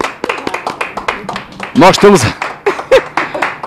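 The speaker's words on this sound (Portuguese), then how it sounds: "Aplausos! Vamos aplausos." An audience gathered around a hotel pool in Rio de Janeiro claps in scattered, uneven bursts while a voice talks over it and briefly sings, the clapping close and crisp.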